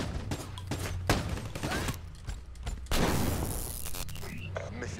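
Shotgun fire in Call of Duty Black Ops 3 multiplayer, several sharp, loud blasts spaced irregularly across a few seconds, mixed with mechanical clatter and game effects.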